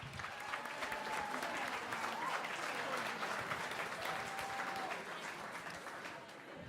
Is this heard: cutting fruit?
no